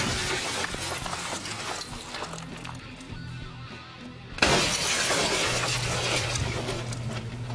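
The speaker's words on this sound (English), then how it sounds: "it allows you to more easily break the side glass on a vehicle" Glass shattering as a muzzle device on a Troy Industries Medieval flash hider breaks a vehicle's side window, a loud sudden crash midway that leaves a sustained gritty crackle of falling fragments.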